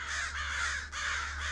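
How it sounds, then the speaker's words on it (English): Several crows caw in a harsh, continuous chorus, as if many are kept caged indoors, with a steady low hum underneath and a brief dip in the middle of the calls. "Those aren't blackbirds. Those are crows."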